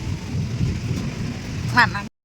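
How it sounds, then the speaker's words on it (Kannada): Low rumbling thunder rolls beneath steady rain during a temple opening event, with a brief louder crackle near the end before the sound cuts off. "ಗುಡುಗಿನ ಅಬ್ಬರ ಶುರುವಾಗಿದೆ"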